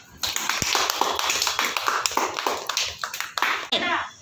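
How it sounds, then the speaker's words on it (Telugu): Rapid hand claps from a group, dense and uneven in rhythm, running through most of the moment at close range, with voices faintly mixed in. "క్లాప్స్."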